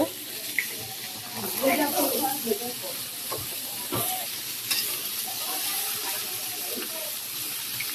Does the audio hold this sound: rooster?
no